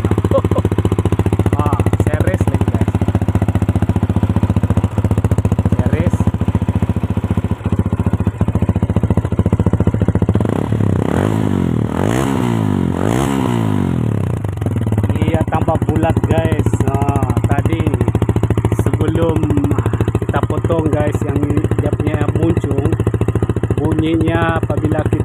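Benelli 150S motorcycle with a cut, loud open exhaust idling roughly, then revved hard a few times in the middle before settling back to a burbling idle.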